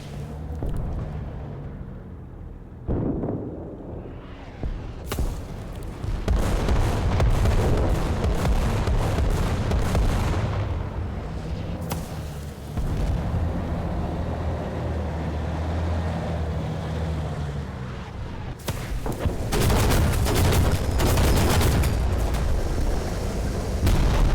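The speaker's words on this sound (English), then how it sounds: "Be nice if people stop throwing artillery on the cap" Artillery shells bursting on a capture point in War Thunder: repeated heavy booms and rumbling blasts over a constant engine drone, with sharp loud impacts near the start and end and no voices.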